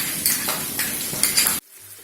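Chilli chicken sizzles in a pan just after chilli sauce goes in, with close, loud scraping and clanking of a spoon against metal in uneven strokes, then an abrupt stop.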